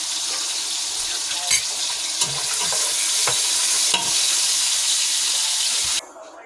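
Cabbage fries in a pan with a steady, loud sizzle and crackle, punctuated by occasional stirring clatters before the sound cuts off.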